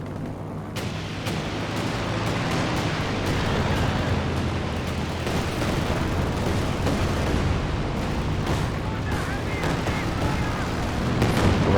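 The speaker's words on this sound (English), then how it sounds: "Barrage on the base exit there" A sustained artillery barrage in Company of Heroes 2 pounds away with dense, continuous booms and gunfire crackle, loud and unbroken, swelling slightly toward the end.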